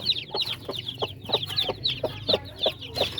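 Repeated soft clucking from a large chocolate Orpington mother hen of an upgraded native line, steady rhythmic calls close by with a faint background hum, no talk.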